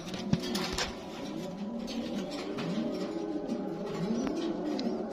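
Fancy pigeons, including black and white shouldered kings, magpies, Danish, racers and baby beaks, coo in soft repeated rising and falling calls that overlap in a steady chorus, near and moderate in volume over low background noise.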